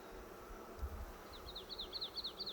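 Honey bees buzz around an open insulated beehive on a hot day, a steady soft hum with a thin wavering drone rising and falling near the end.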